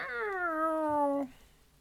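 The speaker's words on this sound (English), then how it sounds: "Meow." A single drawn-out cat meow from the video game Do NOT Take This Cat Home, clear and close, sliding slightly downward in pitch and cutting off after about a second and a quarter into near silence.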